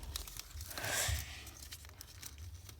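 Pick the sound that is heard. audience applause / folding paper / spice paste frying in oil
folding paper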